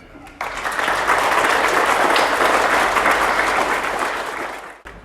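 An audience at a primary school presentation day applauds warmly. The steady clapping swells and holds for several seconds, then tapers off at the end.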